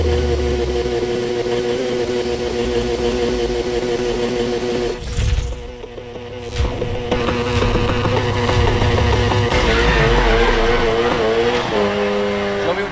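A car drifting in Need for Speed Heat, its engine roaring loud and steady with revving swells and a brief drop midway, while rough, scraping tire noise runs underneath.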